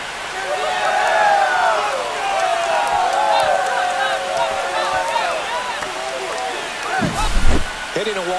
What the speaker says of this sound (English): That should put a jolt into this home crowd.